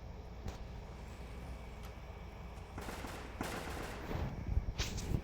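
Bursts of rapid gunfire crackle in a Roblox game, starting sparse and growing denser and louder toward the end over a steady background hum.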